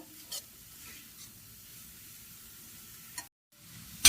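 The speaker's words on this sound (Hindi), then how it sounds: "मावे को हम लो फ्लेम में धीरे धीरे भून लेंगे। लगातार चलाते रहेंगे, नहीं तो ये जल जाएगा।" Khoya (mawa) roasts slowly on low flame in a kadhai for gujiya, stirred constantly. A faint soft sizzle carries a few light spatula scrapes and drops out briefly before the end.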